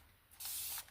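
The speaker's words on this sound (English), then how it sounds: "I am going to spray these with alcohol again real quick" A short, close hiss of alcohol sprayed from a bottle onto freshly poured resin in a heart-shaped tray mold, a single burst lasting under half a second.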